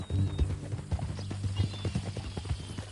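A horse's hooves clip-clop in an uneven walking rhythm, close and fairly quiet, with a low rumbling bed beneath and a faint whinny-like tone in places.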